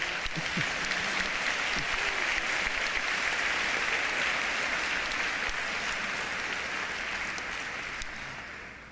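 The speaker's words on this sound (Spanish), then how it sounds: "Un aplauso para mi Dalila" Steady crowd applause at a Spanish-speaking church youth gathering after a dramatic scene, a thick continuous wash of clapping that holds evenly for about nine seconds before easing slightly.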